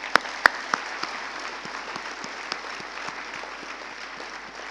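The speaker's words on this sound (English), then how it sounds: "Let's give them a hand." An audience at a medical college MBBS graduation ceremony applauds steadily, a sustained even patter of many hands in a large hall, with a few louder, closer claps standing out near the start.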